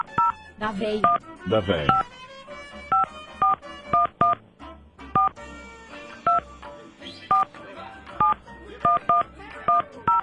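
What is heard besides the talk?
telephone dialing tones calling Argentina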